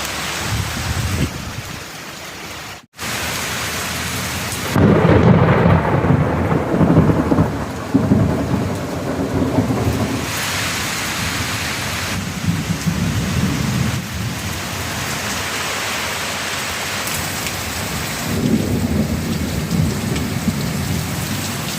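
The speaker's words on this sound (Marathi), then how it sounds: "वाऱ्याचा जोर थांबला आणि पावसाला सुरुवात झालेली आहे" Heavy rain pouring down steadily with deep rumbles of thunder rolling in and out, loud and close, a brief dropout early on, no voices.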